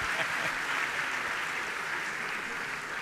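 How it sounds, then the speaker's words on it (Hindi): Audience applause at a Jain monk's religious question-and-answer discourse, a steady dense wash of clapping from a crowd, fairly distant and even in level throughout, with no speech over it. "बजा तो दो ताली"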